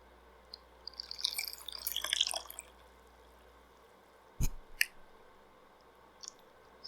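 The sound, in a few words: yarn being dipped and swished in dye water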